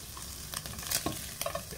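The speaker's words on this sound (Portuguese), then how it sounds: "vamos fritar esse bacon" Bacon frying in a pan gives a steady soft sizzle, with faint scrapes and clinks from stirring, heard close and quiet with no talk.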